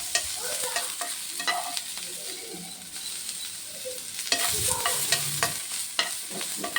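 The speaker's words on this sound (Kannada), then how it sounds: "ಚೆನ್ನಾಗಿ ಫ್ರೈ ಆಗ್ತಾಯಿದೆ." Capsicum fries and is stirred in a pan, giving a steady close sizzle broken by scraping stirs and bursts of crackle, with no talking.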